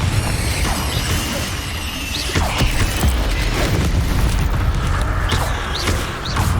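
Confringo fire spell cast in Hogwarts Legacy on PC: a dense, continuous clatter of rumbling booms, crashes and mechanical clanks from combat, steady and loud throughout with no pause.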